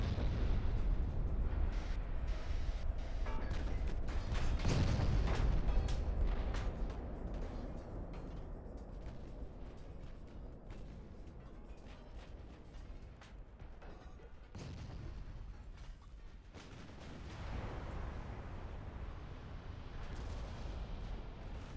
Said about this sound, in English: Oh, we had a detonation there.